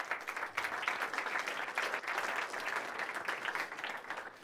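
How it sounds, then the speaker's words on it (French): An audience applauds after a pitch presentation before a jury, a moderately distant, steady patter of many hands clapping with a gently pulsing rhythm, alone without voices. "on peut vous applaudir"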